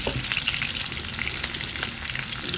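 Vegetables frying in a pan, a dense, steady crackling sizzle throughout, fairly close and even in loudness.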